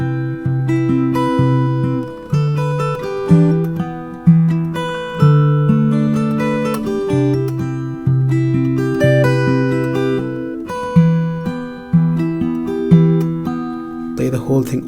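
Fingerstyle acoustic guitar plays the intro to a song, clear plucked notes and chords repeating in a steady pattern, close and alone throughout.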